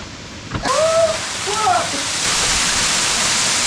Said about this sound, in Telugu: ఇదిగో ఫ్రెండ్స్ రణజిల్లెడ వాటర్ ఫాల్ అంట